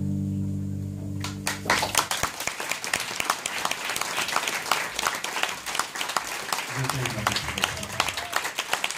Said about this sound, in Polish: Natalia, Mikołaj, wielkie brawa